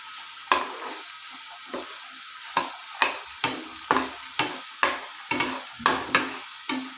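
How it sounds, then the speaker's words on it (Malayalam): A spatula stirs and scrapes food frying in a pan with tomato, in steady rhythmic strokes roughly every half second over a soft continuous sizzle, close and fairly loud with no talking. "നന്നായി വറുത്തെടുക്കണം"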